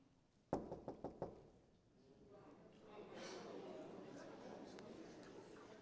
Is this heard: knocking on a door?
yes